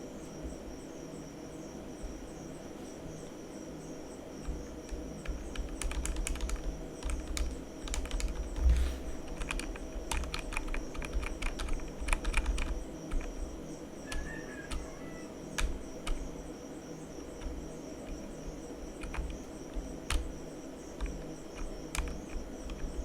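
A password is typed on a computer keyboard in a quiet room, with a quick burst of light, close key clicks clustered in the middle and a few scattered taps afterward, over a low steady hum.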